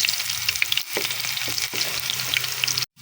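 Garlic sizzles in a hot pan as the base for sautéed fermented shrimp, a bright continuous frying hiss punctuated by a few scraping stirs and knocks, ending with a short cut to silence.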